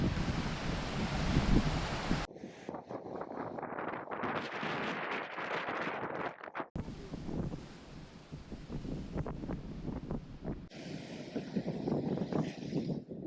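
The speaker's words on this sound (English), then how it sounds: "the waves are getting closer and closer" Ocean waves wash onto a rocky tide-pool shore, a continuous broad rush broken by gusts of wind buffeting the microphone, with no voices.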